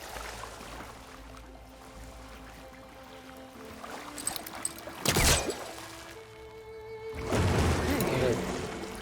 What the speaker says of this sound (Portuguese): Hey, water's draining.